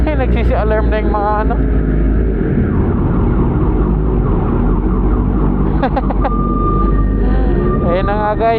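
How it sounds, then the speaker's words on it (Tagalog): A vehicle alarm wails in a parking lot at a motorcycle meetup with a ZX10R and other big bikes, loud and steady with rising and falling siren tones throughout, while someone talks over it. "ayun na nga guys, nagsisi-alarm na"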